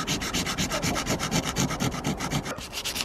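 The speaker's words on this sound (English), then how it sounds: "Just a bit of very fine sandpaper." Very fine sandpaper rubs rhythmically back and forth across the back of a secateurs blade, a steady close scratchy swishing with about a dozen even strokes and no talking.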